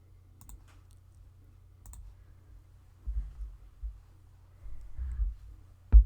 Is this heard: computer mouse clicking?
yes